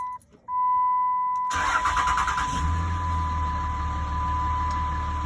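A stock third-generation Ram pickup cranks and starts after a faint chime, catching abruptly and settling into a steady, moderately quiet idle with a low rumble.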